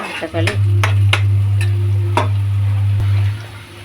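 Vegetables for poha fry in a pan, with a soft sizzle under several sharp scraping stir strokes and clinks of the spatula, set against a steady low hum.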